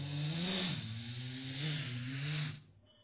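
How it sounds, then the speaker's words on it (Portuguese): Several cartoon race car engines rev and whine together in a video game race, rising and falling in pitch, loud and close, then fade sharply near the end. "Todo mundo acelerando os seus motores."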